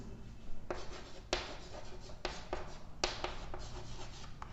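Chalk or marker scratching across a board during a chemistry lesson, a series of short faint strokes and taps at an irregular pace, steady and close.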